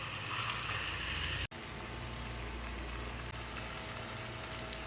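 Tihami-style fish pieces fry in a pan of hot oil, giving a loud, steady, dense sizzle that runs unbroken apart from one sharp momentary dropout, with no voices.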